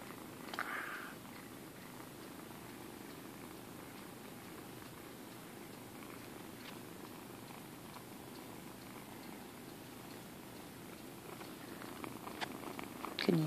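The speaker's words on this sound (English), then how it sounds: "Can you hear them purr?" Close, steady purring from 6- to 7-week-old kittens, a soft continuous rumble with a few small rustles and a brief sharp noise at the end.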